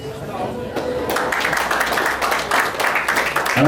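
Applause rises at a wedding party in a cafe, a dense burst of many hands clapping that swells after the first second and continues strongly, with speech heard over and under it.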